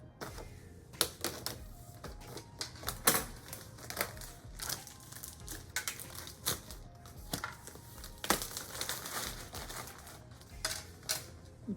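Small scissors snip and crinkle through packaging while opening a Siser Romeo box, giving a string of close, sharp cuts and rustles in an irregular rhythm with no talk.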